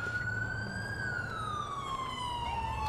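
An ambulance siren in the video game GTA IV wails in a steady rising and falling tone, loud and continuous over a low engine rumble.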